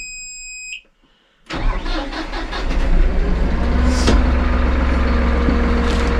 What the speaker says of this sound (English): To crank this tractor, you do have to push the clutch.